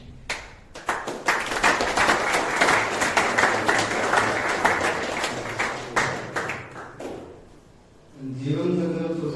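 An audience at an Independence Day celebration in a rehabilitation centre claps along to a bhajan, with brisk, rhythmic hand claps for several seconds before they die away and a voice begins.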